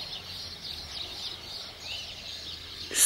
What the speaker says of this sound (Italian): Solo gli uccellini.